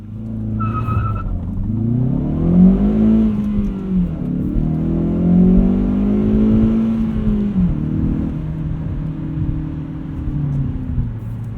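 A 2016 Hyundai Veloster Rally Edition with a six-speed manual, heard from inside during a 0 to 60 run, with a loud engine rising in pitch through the gears, a brief dip at each shift, and a short tire squeal at the launch.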